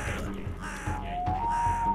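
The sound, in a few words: crow cawing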